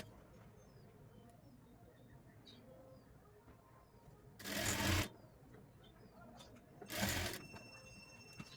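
Two short, loud bursts of a sewing machine join the bell part of a three-piece princess-cut blouse, with quiet room sound and a few bird chirps in between.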